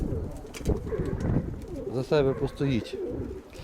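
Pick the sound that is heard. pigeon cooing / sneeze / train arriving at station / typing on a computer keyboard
pigeon cooing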